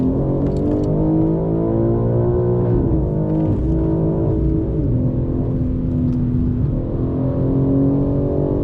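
A BMW M4 G82 driven hard around the Nürburgring Nordschleife, its engine droning loud and steady at high revs with shifting pitch throughout, heard from inside the car with no talk.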